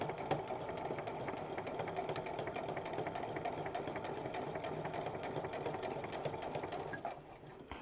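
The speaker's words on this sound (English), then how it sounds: "I'm lining the edge of the presser foot up with that seam exactly to try to keep that as straight as possible" A sewing machine runs steadily, stitching a seam on a quilting cotton handbag, its fast even whir continuing close and alone for about seven seconds before easing slightly at the end.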